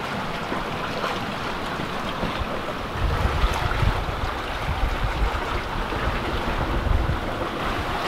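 Steady wind roars over the microphone while waves wash against the hull of a yacht sailing in good breeze off the Croatian coast, a continuous, full rush of air and water with no voices.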